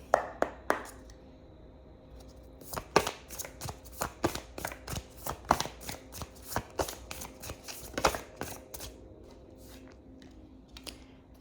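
Tarot cards are shuffled up close in a quiet room, a run of sharp riffling snaps and taps coming in uneven bursts with brief pauses between them.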